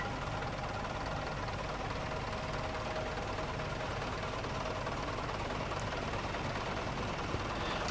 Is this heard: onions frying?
no